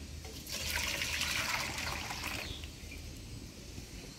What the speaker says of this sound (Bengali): গরম জল দিয়ে সোয়াবিনটা ভালো করে ধুয়ে নিব